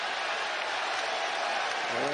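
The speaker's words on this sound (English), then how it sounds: "A sarcastic response from the crowd as the foul is called on Moore" Basketball arena crowd at a UConn vs Providence college game reacting to a foul call, a steady broadband roar of many voices with mocking cheers swelling toward the end.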